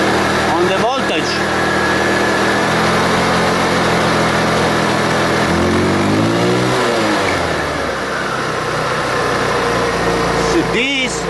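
A scooter engine idles and revs up toward 3000 RPM, a loud steady buzzing hum whose pitch climbs and sweeps upward in the middle before settling, with someone talking over it.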